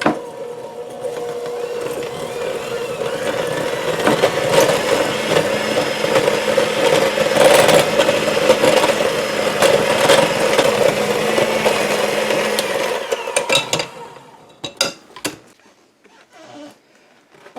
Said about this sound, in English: I'm going to use my little KitchenAid for this one